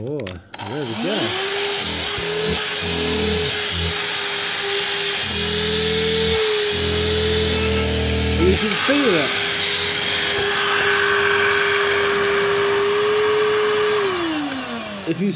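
A Dyson DC16 handheld vacuum cleaner motor whirring up with a rising whine, blipped on and off, then holding a steady high hum before spinning down, loud and close.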